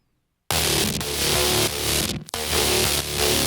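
A synthesized guitar patch built in Serum, recreating the sound from a track, plays loud and dense after a short silence, sustained tones with a brief dropout near the middle.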